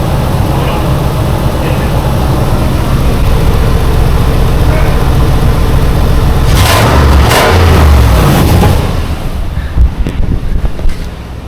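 A Nissan Titan truck engine revs after a tailpipe repair, a loud roaring rumble buried in heavy wind noise outdoors, swelling briefly before easing off.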